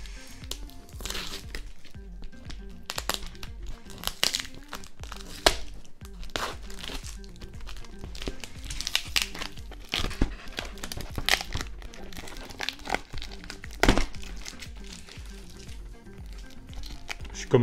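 Paper crinkles and tears in repeated bursts as a wrapped gift is opened up close, rustling on and off throughout.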